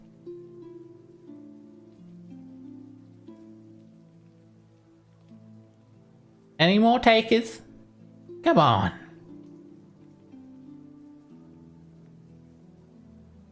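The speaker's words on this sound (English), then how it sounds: "You can just hear the rain sort of patting down on the slate roof." Rain patters softly and steadily on a slate roof, a faint continuous backdrop interrupted by two brief bursts of someone talking partway through.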